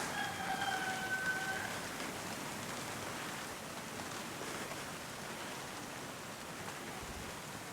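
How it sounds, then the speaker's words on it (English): Steady morning rain hisses on surfaces in Bali, continuous and fairly soft, while a rooster crows faintly in the distance near the start. "It started raining just as I started recording this."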